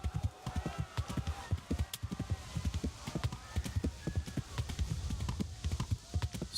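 Horse hooves clip-clopping at a steady trot in the medieval video game Kingdom Come: Deliverance, dense rhythmic thuds close and continuous, with occasional faint whinny tones and no speech.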